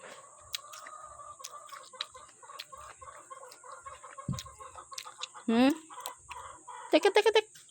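Backyard chickens near a tambis fruit tree, with soft clucks and a few short rising calls ending in a quick burst of clucking, under outdoor ambience and another bird.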